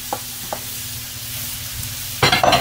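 Chorizo and tomatoes stirred in a frying pan for tinga poblana: a steady sizzle runs throughout, with a couple of soft scrapes early and a burst of louder utensil scraping and clatter near the end, with no talk.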